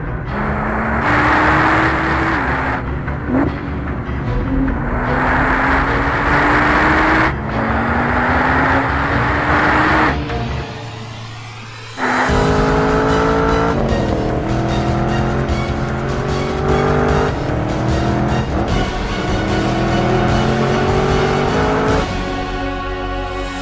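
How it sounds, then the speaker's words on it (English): A race car, a 2014 Chevrolet Camaro Z28 or 2014 Nissan GT-R Track Edition, screams through repeated high-revving gear changes on fast track laps, loud and close, with brief tire squeal and a short lull near the middle. "it was time for Randy to set some fast laps."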